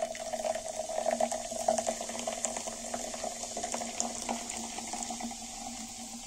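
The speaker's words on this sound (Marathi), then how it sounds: "सोडा ऍड करू आपण।" Soda water pours and fizzes into lemon sharbat, a continuous close bubbling and hissing stream that stays fairly steady for several seconds with no talk.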